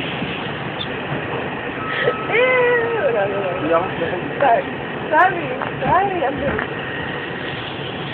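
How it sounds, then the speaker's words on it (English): A Bronx-bound New York subway 4 express train runs with a steady rumble and high metallic wheel squeals, while a person speaks briefly over the noise. "This is a Bronx-bound 4 express train."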